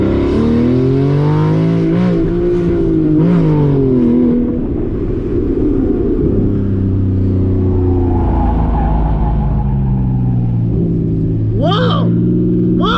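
A 2014 Porsche Cayman S engine revs and burbles nearby, rising and falling pitch with crackles, while people talk over it.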